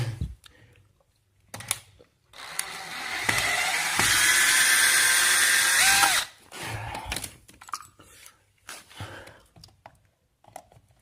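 A power drill backs screws out of a concrete skateboard mold in one sustained loud burst, preceded and followed by shorter whirs, clanks and handling noises.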